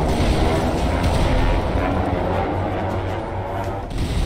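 Godzilla's atomic breath charging up in a modded GTA 5 game: a dense, loud, sustained rumbling roar with crackling booms that holds steady across the whole stretch.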